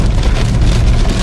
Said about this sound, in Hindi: बारिश आप देख सकते हैं कितनी तेज बारिश हो रही है